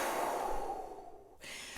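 Deep quick breath in followed by a full breathy exhale as a horn-playing breathing exercise, a close rushing airflow that fades, then a short softer breath.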